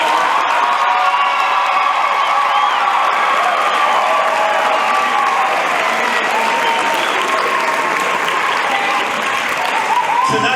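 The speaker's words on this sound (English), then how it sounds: "Let's give these kiddos one more round of applause" Loud, sustained applause and cheering from a graduation crowd at a high school ceremony, with whoops and shouts over steady clapping for the full stretch, voices mixed in.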